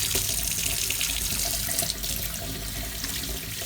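A sink tap runs steadily as glue-resist dyed fabric is rinsed beneath it, a loud continuous rush of water with slight shifts in splash.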